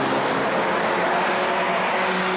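Race cars roar past at speed on the banked oval during the Armadillo Enduro 100 at New Smyrna, with a dense, continuous engine drone that stays loud and close and swells as a car goes by.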